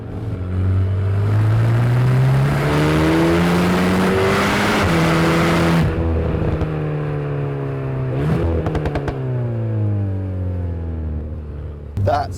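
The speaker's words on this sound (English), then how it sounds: "That's a 4-cylinder engine, and it sounds that good." 4-cylinder car engine in sport mode revving hard with rising and falling exhaust pitch, a few sharp pops near the end, loud and close, with voices talking over it.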